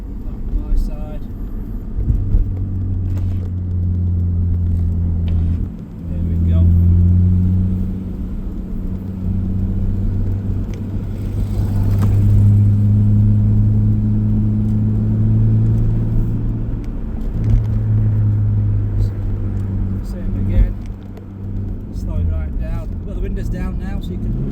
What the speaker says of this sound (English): I'm going to actually roll down the windows a little bit now so you can hear the car.